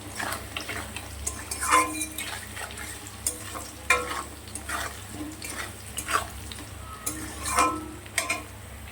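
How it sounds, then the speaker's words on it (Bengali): Fish frying in a pan with salt and turmeric, a steady close sizzle with intermittent stirring scrapes and clatter throughout, no talking. "একটু লাল লাল করে ভেজে নেব।"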